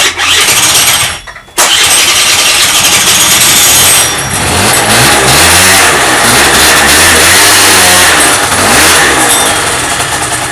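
A Honda Dio scooter engine, recently fitted with a new ignition module, sputters briefly, cuts out, then catches and runs loudly, revving and settling into a fluctuating idle close by.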